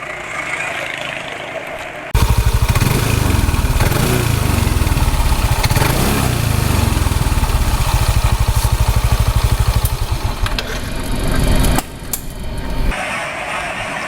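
A scooter-type motorcycle running on Motul GP Matic 10W40 oil, its engine droning loud and steady close by with a strong low rumble and vibration, cutting in after a quieter start and easing back near the end.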